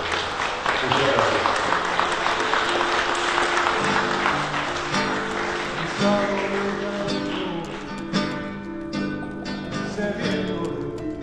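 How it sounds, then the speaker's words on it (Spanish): Mourners at a funeral give long, sustained applause that fills the room as a dense wash of clapping, with scattered voices mixed in throughout. "Yo creo que demos un fuerte aplauso a esa mona hermosa que nos acompañó durante 17 años."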